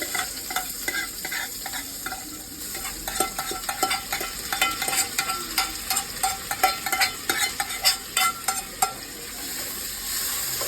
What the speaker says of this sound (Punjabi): ਪਿਆਜ਼ ਭੁੰਨ ਲਾਂਗੇ ਆਪਾਂ